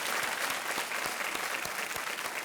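Dense studio audience applause greets a contestant's wife on the KBC quiz show set, a steady close wash of many hands clapping at once, with no talking over it.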